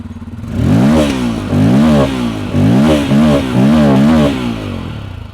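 2022 Bajaj Pulsar N250 single-cylinder motorcycle with a side-hung single-barrel exhaust with twin exits, revved repeatedly: five or six loud, close throttle blips rising and falling over a steady idle, with no talking.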